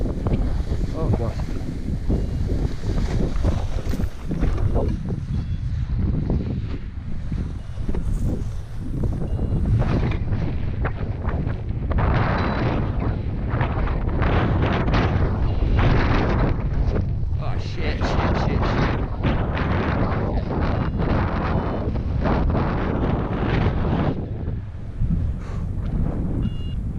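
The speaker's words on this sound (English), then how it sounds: "We arrived at the south side of the Austrian Divide to find a strong south wind coming up onto the faces." Strong south wind buffeting a microphone on a mountainside while paragliding in the Austrian Alps, heavy, continuous gusting roar that surges and fades in loud waves.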